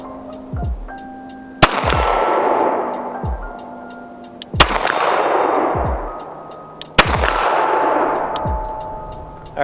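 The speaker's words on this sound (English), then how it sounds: "I'm definitely going to have to take my time with this one, but we'll see if we can land some shots." Three loud gunshots from a Springfield Range Officer Elite 1911 pistol at an outdoor range, spaced about three seconds apart, each followed by the ringing clang of a steel target struck at 50 yards.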